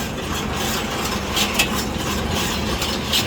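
A Japanese STAR round baler driven by a tractor, rolling a bale, makes a loud, continuous mechanical clatter and whir with gear and chain noise and occasional metallic ticks.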